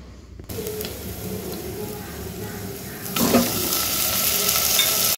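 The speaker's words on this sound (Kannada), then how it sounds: "ಈರುಳ್ಳಿ ಸ್ವಲ್ಪ ಫ್ರೈ ಆದಮೇಲೆ ನಾವು ಹಸಿಮೆಣಸಿನ್ಕಾಯಿ ಸ್ವಲ್ಪ ಸೈಡಿಗೆ ತೆಗೆದಿದ್ವಲ್ಲ ಅವನ್ನ ಹಾಕಿದ್ದೀನಿ" Onions and green chillies frying in a clay pot, giving a steady sizzle after a short quiet start, with a louder burst of sizzling and stirring about midway as more goes into the pot.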